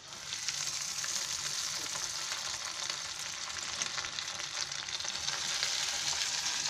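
Bread-coated chicken pieces for chicken crispy frying in hot oil: a steady, dense, hissing sizzle that holds at an even level throughout, close and unbroken, with no voices.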